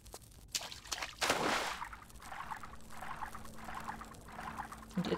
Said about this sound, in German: Also das Wasser klingt sehr, sehr komisch.